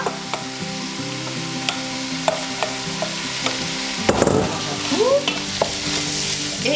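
Onions and potatoes frying together in a pan, a steady close sizzle broken by sharp ticks and clinks, then a louder burst of stirring and scraping near the end, with no speech.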